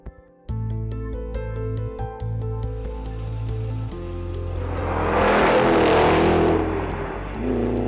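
A 2013 Ford Shelby GT500 on track in cool pre-sunrise air, its engine holding a steady loud tone before surging into a broad roaring rush of speed and wind, then settling back.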